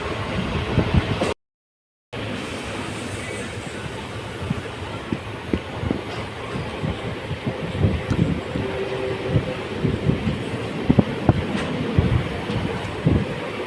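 Punalur Madurai Express, an unreserved passenger coach running in motion, gives a steady broadband rumble with scattered rattles and knocks throughout, briefly cut out early on, with no talk.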